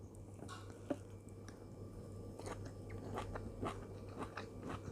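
Soft, close bites and chewing of blanched vegetables eaten with rice and chili dip, with faint crunches and moist squishes over a low steady hum.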